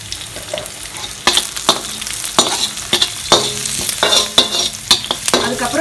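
Onions frying in a pan with a little turmeric powder, scraped and stirred in repeated bursts over a steady close sizzle; no talking.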